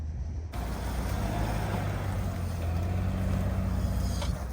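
A Pinzgauer 6x6 off-road truck fitted with a 190-horsepower Toyota engine drives steadily, its engine a continuous loud rumble with rough broadband road and tyre noise throughout, no voices.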